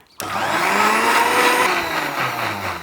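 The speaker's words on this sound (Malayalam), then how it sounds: "നന്നായിട്ട് മിക്സിന്റെ ജാറിൽ ഇട്ടിട്ടുണ്ട് അടിച്ചു കൊടുക്കുക" A mixer grinder blending butterfly pea lime juice whirs to life abruptly and runs loud and steady at high speed, its motor whine easing slightly toward the end.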